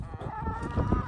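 Chickens clucking close by in a short, busy burst of overlapping calls.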